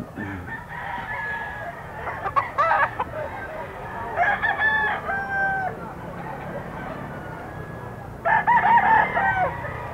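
A bullstag rooster at a pet market crows several times, loud and near, with calls rising above a busy background of clucking and market noise.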